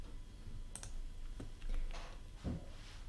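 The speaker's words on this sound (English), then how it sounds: "I can continue the conversation by typing into the chat window down the side here" Keys on a computer keyboard tapped a few times while a message goes into a chat window, with scattered soft clicks and brief louder strokes near the middle and end, no voices.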